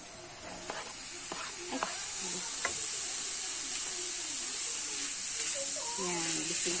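Mushrooms for a carbonara sizzle steadily in a hot pan as they are stirred, with a continuous close frying hiss, scattered scraping clicks, and a voice faintly present underneath.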